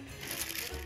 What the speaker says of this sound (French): j'essaye d'enlever le papier de soie